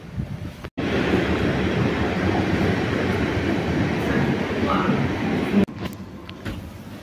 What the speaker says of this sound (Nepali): म चाहिँ ट्रेन चढिसकेँ।